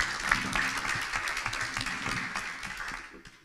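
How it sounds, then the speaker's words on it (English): A modest audience at an annual community meeting claps for speakers, a soft patter of hands that fades out toward the end. "A round of applause"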